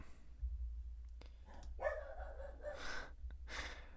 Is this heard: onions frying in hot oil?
no